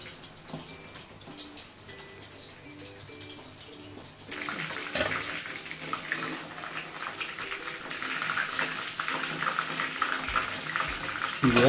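Chicken pakoda frying in peanut oil, a soft bubbling sizzle that gets louder and busier partway through, probably as more batter goes in, with faint voices in the background.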